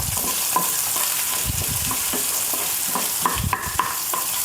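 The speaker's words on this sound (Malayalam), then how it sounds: "ചട്ടി ചൂടായി എണ്ണ ഒഴിച്ചിട്ടുണ്ട് ഞാൻ. അപ്പോൾ ഇതിലേക്ക് നമുക്ക് ചുമന്നുള്ളിയാണ് ചതച്ചതാണ്" Crushed shallots fry in hot oil in a pan with a steady close sizzle, while a utensil stirs and scrapes in short irregular bursts and nobody speaks.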